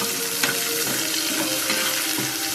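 Fish sizzling loudly and steadily in hot oil in a pan for a Tulu-style dried fish sukka, with a few faint stirring clicks and no talk.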